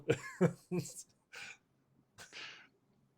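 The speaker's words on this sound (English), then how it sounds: "Oh man, God, I had this weird cough." A person coughs and clears their throat several times in short, close bursts, with brief pauses between them in an otherwise quiet indoor setting.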